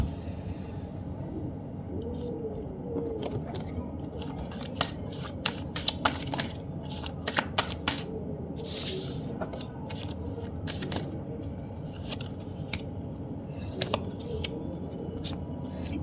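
Tarot cards being shuffled close by, a soft papery riffle dotted with light snaps and flicks, fairly quiet and continuing steadily throughout.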